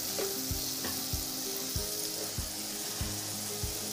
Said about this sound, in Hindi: बैच को फ्राई करेंगे जलेबी के।